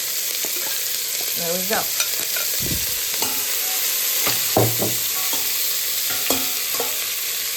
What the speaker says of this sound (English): now I'm just gonna put all the onions and celery and carrots in.